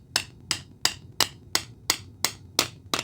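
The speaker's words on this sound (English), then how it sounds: "I'm going to need to do a little tappy tap tap" A hammer taps a brushroll bearing into place on a 1994 Dirt Devil vacuum, nine sharp, evenly spaced metallic taps close up with no talk.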